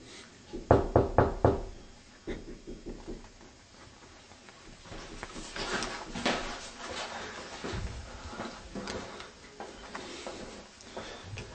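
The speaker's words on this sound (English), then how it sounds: "Go over there and knock on the wall." Knocking on an indoor wall: a quick burst of several loud, sharp raps near the start, then scattered softer knocks and thuds mixed with general room noise, with no speech.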